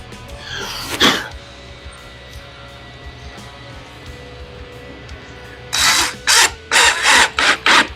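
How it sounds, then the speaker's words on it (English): Short bursts of a power drill drive screws into the trim panels of a subwoofer enclosure. One whir comes early, then a rapid cluster of four or five close, fairly loud bursts near the end over quiet room noise. "by pre-drilling them, even just a little bit, it helps the screws start straight"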